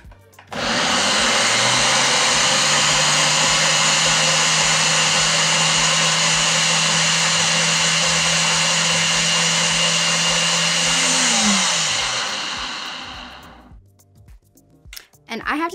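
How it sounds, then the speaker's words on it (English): A blender purees fruit with kombucha, whirring loudly and steadily for about twelve seconds, its motor pitch dipping near the end before it shuts off. "adding a little bit of kombucha to the mix helps the blender go a little bit easier"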